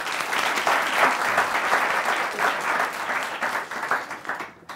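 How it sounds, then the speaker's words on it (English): Audience applause at a comedy show, a full, sustained round of clapping that fades out at the end. "Ebu, pigieni makofi bana."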